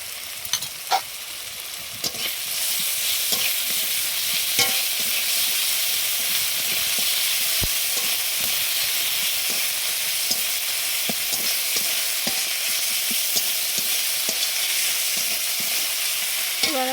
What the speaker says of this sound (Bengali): আদা রসুন পেস্টটা দিয়ে দেবো পেঁয়াজটাকে ভেজে দিই